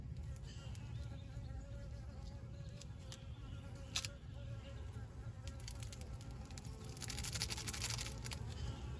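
Honey bees buzz steadily around a backyard hive during a weekly inspection, a continuous droning hum with scattered sharper clicks and handling noises, rising slightly louder near the end.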